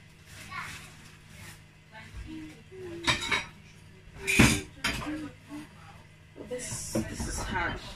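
Plates and dishes being washed by hand, including a plate with leftover jollof rice, with intermittent clinks and scrapes of crockery and cutlery, a couple of sharper clatters, under soft talk and children's voices in the background.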